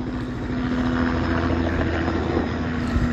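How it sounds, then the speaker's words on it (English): A helicopter passes overhead at an outdoor theme park evening show, giving a continuous loud engine and rotor drone that holds steady throughout without any talk. "here comes Mr. Helicopter again, making noise"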